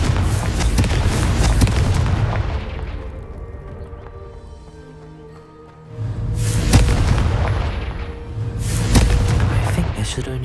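Booming Confringo spell blasts shatter vases in the Hogwarts Legacy video game, two loud heavy bursts separated by a quieter rumbling lull, with a voice speaking over the action.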